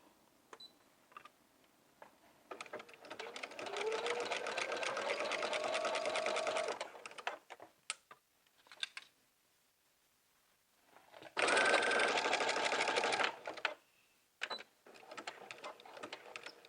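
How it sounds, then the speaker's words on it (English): A sewing machine stitches fabric for a jumpsuit in two loud, steady whirring bursts separated by pauses with faint handling clicks and taps. "Okay, let's insert our fabric. And begin sewing."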